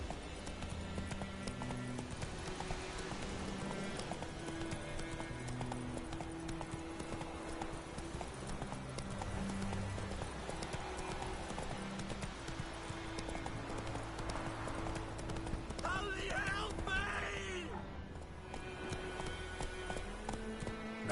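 Roach, the horse in The Witcher 3, gallops with a steady rapid clip-clop of hooves throughout, a long continuous run with a brief neigh-like sound near the end and no speech over it.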